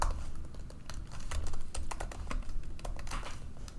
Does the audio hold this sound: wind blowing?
no